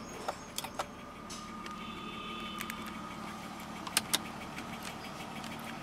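A 1995 BMW 325i E36 engine idles with a steady low hum, joined by scattered light clicks and a couple of sharper taps.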